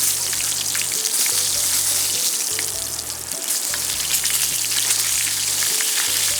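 Hanwoo beef steak fries in a pan outdoors by a valley stream, a dense, steady sizzle and spatter filling the whole stretch, loud and close, with no voices.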